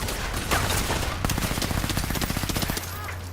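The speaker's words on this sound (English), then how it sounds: "I'm getting shot at now" Rapid bursts of automatic gunfire fired at the player in a video game, dense, loud and continuous over a low rumble, without talking.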